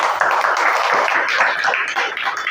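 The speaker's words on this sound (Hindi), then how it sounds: "उनके लिए भी एक जोरदार ताली हो जाए" A crowd claps loudly in a dense, sustained burst for Indu, wife of Arjun Kumar Mandal, at a public gathering, steady from start to finish with no voices over it.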